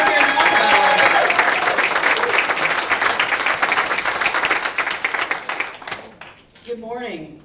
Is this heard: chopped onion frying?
no